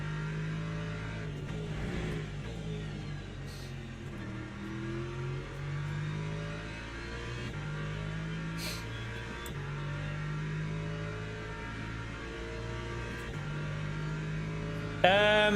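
A race car engine in the Le Mans Ultimate racing sim drones steadily, its pitch climbing and dropping through repeated gear changes over the whole stretch, with a brief louder burst at the very end.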